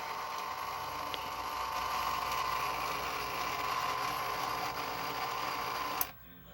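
A Hy-Gain Ham IV antenna rotator turns clockwise with a steady, quiet mechanical whir and gear hum that stops abruptly with a click near the end.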